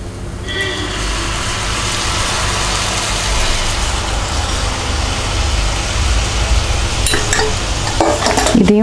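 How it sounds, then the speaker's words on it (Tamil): Jaggery filling for pidi kozhukattai stirred in a pan, loud continuous bubbling hiss and rhythmic scraping over a low hum, with sharp metallic clinks of utensil on pan near the end. "இதுவே வந்து நல்லா மிக்ஸ் பண்ணிகிட்டே வாங்க, பூரணம் ரெடி ஆயிரும்."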